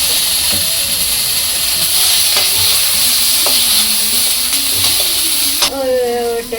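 A homemade snack stir-fried in a pan with soy sauce, loud steady sizzling close up with occasional scraping stir strokes, a brief hiss burst near the end.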